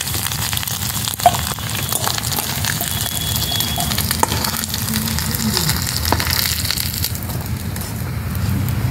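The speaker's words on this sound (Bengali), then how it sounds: "এরকম লাল লাল করে মাছগুলোকে ভাজতে হবে" Loitta dry fish fries in hot oil over a high flame, a dense, steady crackling sizzle close by with a few sharp pops and clicks scattered through it.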